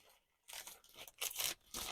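Plastic bag handled during a craft work-in-progress session: crinkly tearing and rustling bursts come in several short bouts after a quiet start, close and fairly loud, with no talk.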